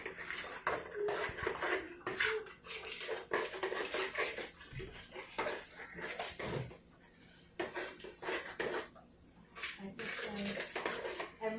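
Brown sugar and mustard being stirred together as a rub for BBQ ribs, with soft irregular scraping and clicking of utensil against a bowl heard beneath someone talking.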